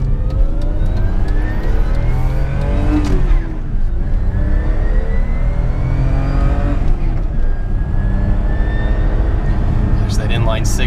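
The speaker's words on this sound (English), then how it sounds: "That inline six just sounds so beautiful" A BMW E30 with an inline-six engine revs and pulls through the gears on the road, loud and close, with rising engine tones across the clip.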